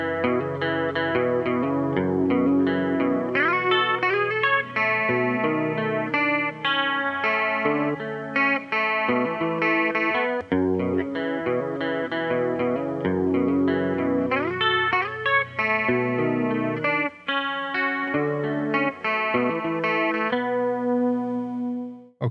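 An effects-laden electric guitar plays the verse of a song at a slow tempo, with chorus and distortion coloring steady, continuous chords and melodic lines, up close with no talking.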